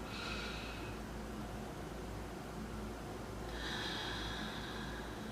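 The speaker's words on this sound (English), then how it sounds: "And then that big diaphragm breath, letting the belly expand." Deep diaphragm breaths during a yoga session, two slow, airy breaths at the start and near the end, soft and close against quiet background hiss.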